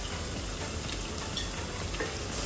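Bay leaves, onion and whole cumin sizzling in hot frying oil, a steady loud crackling hiss close up with faint stirring and no talk.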